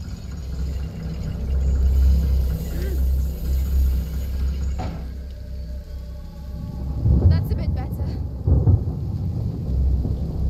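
Thunderstorm ambience in the video game A Plague Tale, with a loud sustained low rumble of thunder through the first half that eases off, then further rumbles and scattered crackles later on.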